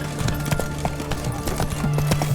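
Horse hooves clip-clopping in The Witcher 3: Wild Hunt, a steady rhythmic stream of near, moderately loud footfalls over a low game ambience, with a faint whinny-like tone.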